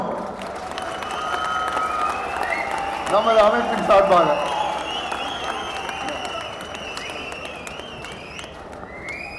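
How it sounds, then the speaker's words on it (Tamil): Loud audience applause and clapping at a welcome event for traders' association leaders, swelling to a peak midway over a noisy crowd while someone speaks over it through a PA. "ஒரு பலத்த கரகோஷம்"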